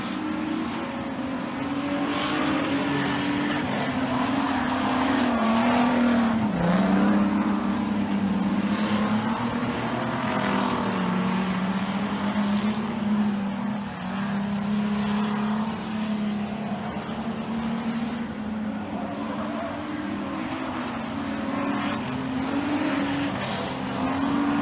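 A race car with a limited, near-stock motor and restricted tyres drives on a racetrack, its engine a loud, continuous close-up drone with slight pitch swells and no talking throughout.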